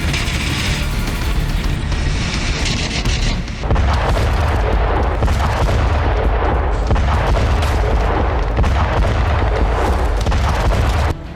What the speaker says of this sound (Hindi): यहां पर अचानक से रूस ने गोलीबारी की, जिसकी वजह से गाड़ियों में आग लग गई